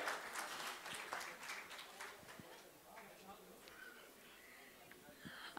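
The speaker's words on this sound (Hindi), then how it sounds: "एक बार जोरदार तालियां फॉर द मैन हियर" An audience claps at a Steelbird Helmets event, the applause fairly faint and distant, with a spread of claps and some crowd murmur beneath.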